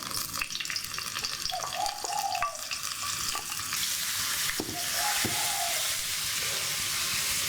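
Balinese spice paste hitting warm vegetable oil over medium heat, a steady close sizzle and crackle that swells louder partway through, with occasional stirring clinks.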